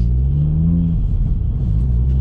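Throaty induction roar from a built Audi S1 as it revs, a strong steady engine note that rises and then settles into a rough rumble, loud and close throughout, with no talking.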